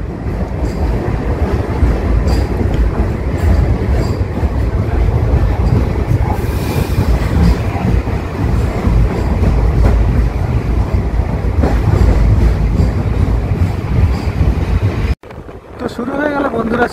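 The Silchar Express long-distance train pulling into New Alipurduar Junction in India: loud, steady rolling clatter and rumble of the carriages with wind rushing past, then a sudden cut to quieter sound near the end.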